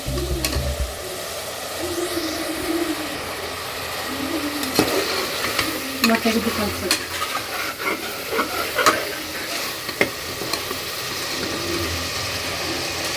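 Masala for kaalu gojju, a gram curry with raw banana and soaked chana dal, frying and being stirred in a pan: a steady close sizzle with repeated scraping strokes of the spoon, no talk.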